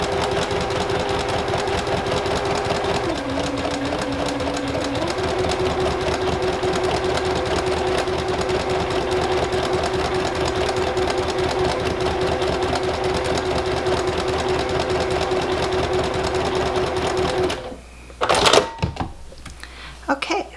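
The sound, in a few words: sewing machine stitching half square triangles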